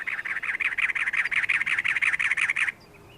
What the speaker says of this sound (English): a cactus wren announces itself atop a barrel cactus